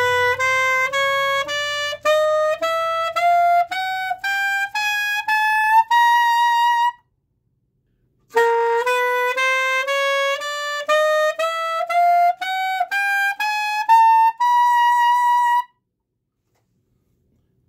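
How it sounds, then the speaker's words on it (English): Saxophone altissimo notes climbing stepwise from high C upward, played as two ascending runs of clear sustained tones separated by a short pause, loud and solo with no talking. "Sounds like this. I'm going to start on the high C all the way up."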